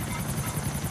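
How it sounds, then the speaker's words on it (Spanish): A Maverick helicopter in GTA IV: The Lost and Damned, with its steady rotor thump and whine, loud and close throughout the short stretch, with no one talking over it. "Vamos, helicóptero bonito, vamos,"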